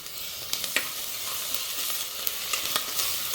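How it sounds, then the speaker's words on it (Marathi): Ginger, garlic, green chilli and coriander paste frying in oil with softened onion, a steady sizzle broken by several sharp spatters and light stirring clicks, close by, with no voices. "आता ह्यामध्ये मी आलं, लसूण, मिरची, कोथिंबीरचं वाटण घालते।"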